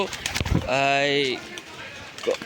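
Desi golla pigeons coo at feeding time, a close, drawn-out cooing call rising out of low rustling, with a second shorter coo near the end; a voice speaks briefly at the start.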